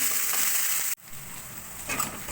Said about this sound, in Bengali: রসুনগুলো আর লঙ্কাগুলো আমি ভাজা ভাজা করে নিয়েছি ভালো করে।